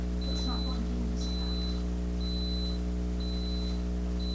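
Electronic alarm beeping in a town meeting room, evenly spaced high-pitched tones repeating about once a second over a steady low hum, with brief voices in the room at the start.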